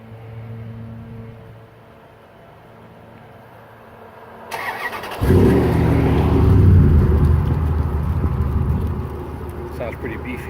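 A 2003 Dodge Ram 2500 pickup fitted with a Flowmaster Series 50 exhaust cranks over and settles into a loud, deep, rumbling idle up close, with people talking quietly before it starts.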